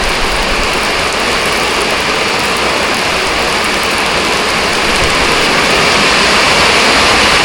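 Heavy rain pours down steadily around a rural home in Thailand, a loud and unbroken wash of noise that stays constant from start to finish with no voices.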